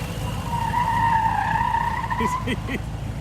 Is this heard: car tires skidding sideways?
yes